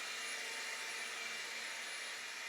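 An upright vacuum cleaner runs steadily on a carpet near a home computer desk, a constant loud roaring whine with no breaks and no voices.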